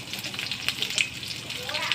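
Chopped large onions sautéing in a pan, a close, moderately loud sizzling hiss with small crackles throughout, briefly and with no clear talking.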